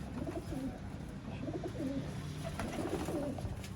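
Teddy pigeons coo softly in low, repeated rolling calls, overlapping one another against a steady background hum, with no one talking.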